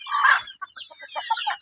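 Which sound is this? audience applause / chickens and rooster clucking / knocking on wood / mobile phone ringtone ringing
chickens and rooster clucking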